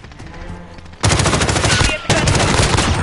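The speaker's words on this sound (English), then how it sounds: "Taking fire!" Automatic gunfire bursts in the video game Call of Duty Modern Warfare, loud and dense, breaking in after a quieter stretch of game ambience and continuing as sustained close rapid fire with a brief dip midway.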